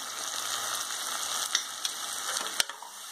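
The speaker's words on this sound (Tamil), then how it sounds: "மிளகாய்த்தூளை ஆயிலில் கொஞ்சம் வதக்கி வச்சுட்டு" Chili powder frying in oil for a traditional mutton curry, a soft steady sizzle with a few light spoon taps and scrapes near the end, fairly quiet.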